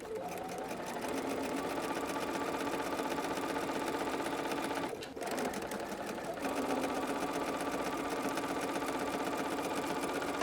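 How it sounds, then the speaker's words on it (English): Stitching along a diagonal line on quilt fabric, a sewing machine hums continuously and close by, broken by a short dip near the middle before it settles back into its even, buzzing run. "We just now need to go sew either the drawn line or track a 1/4 inch away from that diagonal line"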